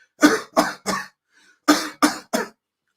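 Six sharp coughs close to the mic, a quick burst of three, a short pause, then three more, with near silence between them.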